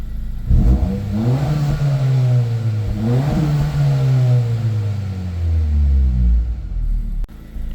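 A 2025 Honda Civic Si with its stock exhaust in normal mode revs up loudly and steadily from idle, climbing and falling in pitch before easing back down, close by with no talking.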